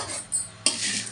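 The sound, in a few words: cumin seeds frying and stirred in pan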